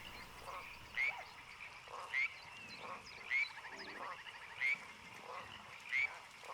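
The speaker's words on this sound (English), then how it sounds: "I put some frog noises in." Frog croaks repeating roughly once a second in the video game Planet Zoo, five or six distinct calls over a soft floodplain ambient bed, fairly near and steady.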